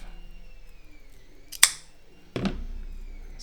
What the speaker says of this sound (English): Again, sliding the scissors in between the braid and the wire,